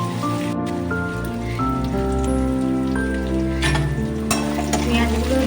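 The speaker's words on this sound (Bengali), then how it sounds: "পেঁয়াজগুলোকে আমি বেশ কিছুক্ষণ ধরে একটু নাড়াচাড়া করে নেবো।" Onions are stirred and sautéed in a pan for paneer butter masala, with a steady close sizzle and frying crackle running throughout, spoon scrapes and clinks scattered on top, and music playing underneath.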